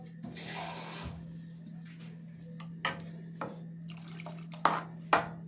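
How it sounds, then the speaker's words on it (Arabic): A small amount of water is poured into milk while cooking vermicelli pudding in a kitchen, a brief splashy pour followed by scattered clinks and taps against a steady background hum. "هحط كده ايه شويه ميه صغيرين تاني"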